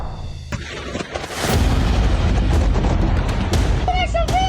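Bombing in Lebanon: a heavy explosion erupts into a loud, sustained, roaring rumble after a few scattered thuds, with voices faintly audible near the end.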